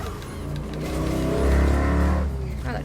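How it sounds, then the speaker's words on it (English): Loud road traffic outside, a deep engine rumble from passing vehicles that swells and peaks midway before easing slightly, steady and close with no talking. "Wow, the traffic's gotten really loud."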